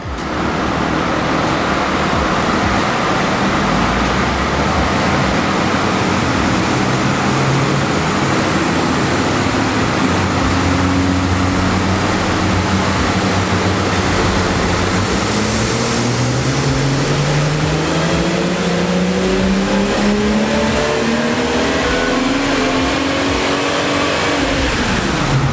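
Car engine fitted with an AWE axle-back exhaust revving hard on a dyno, a loud continuous roar that climbs steadily in pitch through a full pull, alone without talk.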